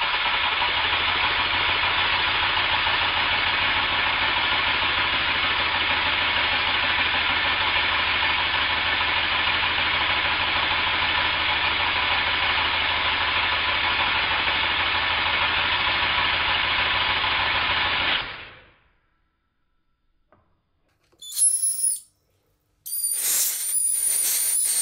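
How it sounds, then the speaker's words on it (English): Stuart Models 1010V model steam engine running steadily, a close, loud continuous mechanical hum and hiss that cuts off abruptly near the end, followed by silence and a few brief bright sounds. "I'll leave the steam engine running till the end of the video"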